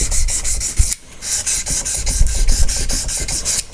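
A metal file rasps back and forth across guitar frets on a Donner Strat, a close, crisp scraping in quick, regular strokes with one brief pause partway through.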